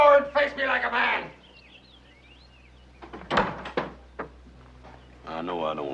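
Loud banging on a wooden door in an old Western setting, a burst of several heavy thuds in the middle, with someone shouting before and after.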